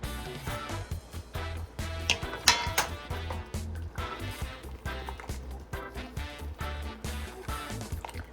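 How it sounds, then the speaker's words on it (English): Goat head soup (Jamaican mannish water) with ram goat soup mix and cock soup stirred in a pot, giving repeated clinking, scraping strokes in a steady rhythm over a low background hum. "And I'm going to mix well."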